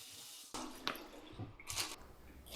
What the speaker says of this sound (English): Wash the sweet potatoes thoroughly.